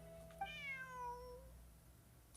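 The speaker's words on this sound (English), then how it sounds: "Bonnie is Pierre's cat" A single cat meows in the video game Genshin Impact, one clear, drawn-out, descending meow close up over a faint steady background hum.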